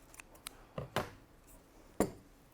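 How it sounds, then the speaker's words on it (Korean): Scissors snip thread in a few short, sharp clicks, close and quiet, with soft handling noise between the cuts. "동전과 실을 간단히 자를 거예요. 실은 한 20cm 정도로 자르도록 하겠습니다."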